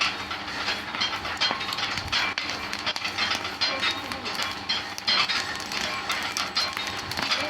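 A puffed rice (khoi) roasting machine at a roadside mill runs loud and continuously, a dense rattling, rumbling clatter with a hissing edge and rhythmic churning pulses, close by.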